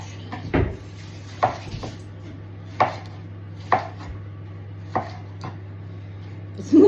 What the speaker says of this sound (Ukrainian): Помідори я так завжди ріжу, щоб не розповзалися.